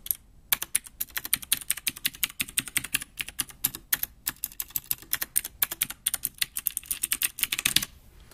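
Typing on a Cooler Master Quickfire XT mechanical keyboard with Cherry green switches and some custom keycaps, a steady run of sharp, close clacking keystrokes with brief pauses, no voices.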